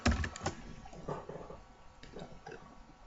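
Rapid keystrokes on a computer keyboard as C++ code is entered, a dense run of clicky taps that starts louder and settles into a steady, softer patter, close up with no talking.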